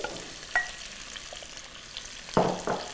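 Tofu pieces sizzling in shimmering hot oil, a soft steady fry with a few sharp clinks and a louder burst of crackling and spatter near the end, close and without speech.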